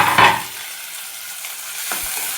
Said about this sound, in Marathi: आता सर्व जिन्नस 2 मिनिटाकरता आपल्याला असंच परतवून घ्यायचं.